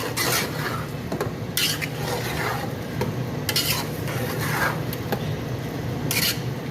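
A spoon scrapes and stirs beef masala as it roasts in a pot, with sizzling underneath and bursts of metallic scraping against the pot, close and continuous without speech.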